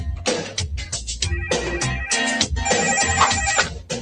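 A Swatch phone rings in a 1990s advertisement, giving a loud, bright electronic ringtone that repeats in quick bursts over a busy backing track.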